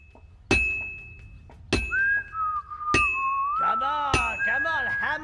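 A drunk character whistles a wavering tune in the blacksmithing game Legacy of the Forge, between sharp ringing hammer strikes on metal that land roughly once a second.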